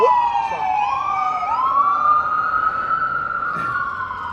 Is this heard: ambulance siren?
yes